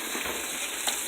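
Steak fries in a pan with a steady, close hiss of sizzling fat, constant crackle throughout and a brief sharper pop near the end, no talking.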